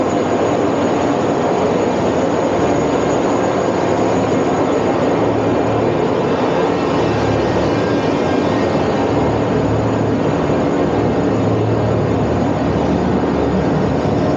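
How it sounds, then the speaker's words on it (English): Ferry engines running in the engine room, a loud, steady broadband machinery roar with a constant drone that holds unchanged throughout, with no talk. "I gotta get by the engine room here."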